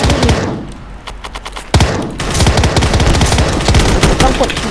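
Rapid automatic gunfire in the Roblox game Gun Testing, loud close bursts of repeated shots with a short pause before firing resumes.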